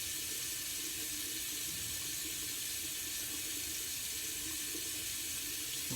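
Water running steadily from a bathroom sink tap while a shaving brush is rinsed, a constant close hiss and splash with no speech.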